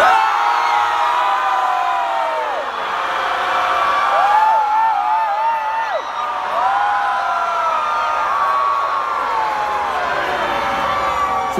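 A concert crowd at a show screams and whoops together on cue, a loud sustained mass of shrieking voices that swells and dips briefly before surging again, filling the hall without pause.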